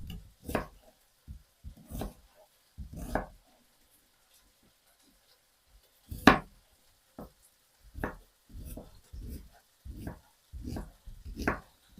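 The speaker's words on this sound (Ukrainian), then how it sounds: "Цибулю нарізаю кубиками." Irregular knife strokes dicing an onion on a cutting board, sharp close taps in short bursts with pauses between, no talking.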